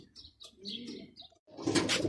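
Pigeons coo in a short series of soft, low calls with faint chirps above, followed by a louder burst of rustling and flapping near the end.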